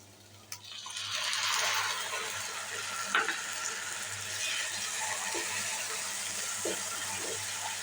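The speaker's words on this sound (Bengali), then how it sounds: "পেঁয়াজ আদা রসুন ভাজা ভাজা হয়ে গেছে এখন টমেটো পেস্টটা দিয়ে দিচ্ছি" Tomato paste hitting a hot pan of fried onion, ginger and garlic for chole, bursting into a loud, steady sizzle that continues throughout with a few stirring clinks.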